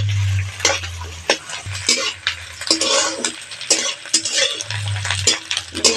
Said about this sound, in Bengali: তেল গরম হয়ে গেছে, ডিমটা দিয়ে দেবো।